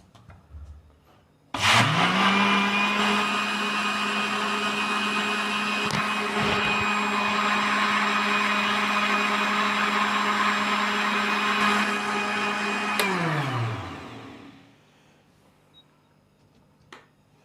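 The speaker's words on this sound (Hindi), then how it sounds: "तो अभी हम इसको 1 से 2 मिनट के लिए ग्राइंड करेंगे।" An electric blender grinds sweet lassi made with raw milk in a home kitchen: a loud, steady high-pitched motor whine starts abruptly, runs for about twelve seconds, then winds down as it is switched off.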